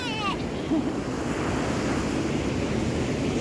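Sea waves wash around bare feet standing in the water, a steady close rushing surf with wind noise over the microphone.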